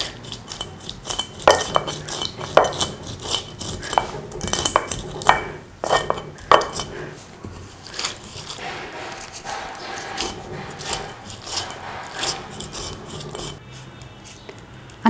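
Pomegranate seeds being ground on a stone sil batta, giving repeated hard clinking, knocking strokes in an uneven rhythm, fairly close and loud at first, then easing into softer scraping.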